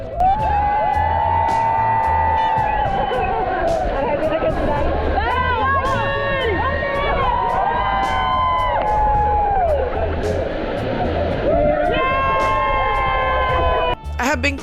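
A crowd at a waterfall where people leap from the cliffs whoops and cheers loudly for the jumpers. Shouting voices rise and fall over a continuous rushing roar of water, and there are sharp bursts of excitement throughout.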